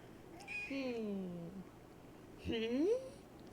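Two drawn-out cat meows a second or so apart, close and clear, the second rising then falling, with faint background hiss.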